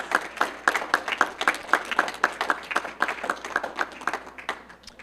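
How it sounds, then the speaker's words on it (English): Rhythmic clapping in a school auditorium during a lecture series break, a group beating out a steady, evenly spaced beat that builds and then tapers near the end. "Let's do a round of applause to get those in the lobby back here into the auditorium."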